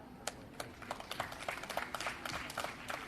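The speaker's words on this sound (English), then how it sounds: "Yes, you can clap louder if you want," Scattered claps from an audience at an authors' summit, applauding a speaker; sparse, irregular hand claps at moderate distance, thin and patchy rather than a full ovation.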